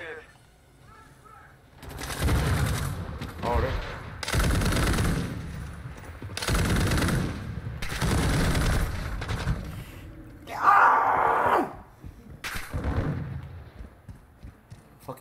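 Bursts of RAAL MG machine gun fire in Call of Duty 2 multiplayer, several long rattling volleys separated by short pauses, loud and close, with a player talking between them.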